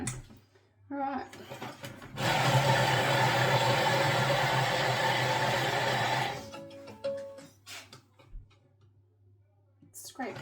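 A food processor chops cheese and other ingredients in a loud, steady whir lasting about four seconds, bracketed by clatter and talk from a nearby person before and after.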